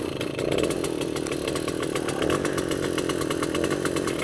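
A Soviet Riga Mini RMZ 30 moped's small two-stroke engine starts and runs, a rapid buzzing putter with dense repeating firing pulses, close and steady, no talk.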